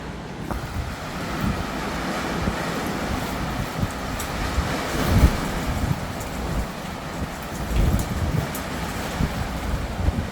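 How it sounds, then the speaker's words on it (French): Powerful storm gusts from Storm Nils roar through Bordeaux in a continuous loud rush, surging and buffeting the microphone in waves with heavy rain noise mixed in. "j'ai l'impression que le vent s'intensifie, hein"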